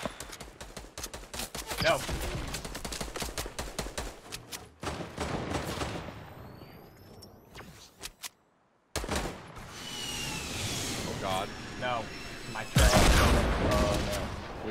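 Bursts of Fortnite gunfire crack in rapid repeated shots between brief pauses, with a sudden silent gap before more firing and a heavy blast near the end, while players talk over the action.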